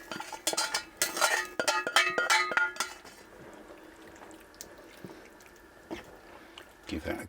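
Chilli con carne with mince is stirred in a pot, a burst of wet scraping and spoon clinks up front that fades to a low simmer, with a voice faintly underneath.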